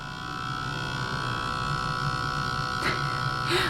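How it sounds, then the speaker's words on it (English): A heat press machine gives a steady electric buzzing hum at moderate volume with a faint rattle, with a brief click near the end. "My heat press loves to make noise."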